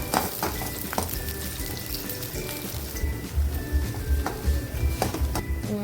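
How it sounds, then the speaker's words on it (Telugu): Curry leaves fry in hot oil, giving a crackling sizzle with sharp pops and spits. A spoon stirs them now and then. "కొంచెం కరివేపాకు, ఇవైతే కొంచెం బాగా ఫ్రై అవ్వాలి, పచ్చి వాసన అంతా పోయే వరకు"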